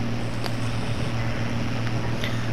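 Ursus 1614 tractor engine in Farming Simulator 22 idling and running with a steady low drone and a constant hum, loud and continuous throughout, with no talk over it.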